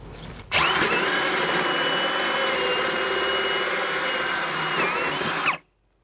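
A power drill bores a hole through a house wall for a mini split installation, a loud, steady whine for about five seconds that starts and stops abruptly.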